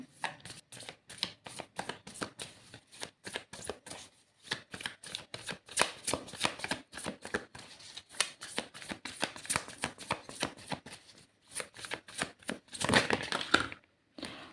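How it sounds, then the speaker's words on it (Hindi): Tarot cards are shuffled and drawn in a long run of quick, crisp riffling bursts, with short pauses between flurries and no talking. "कार्ड्स जो निकल के आ रहे हैं"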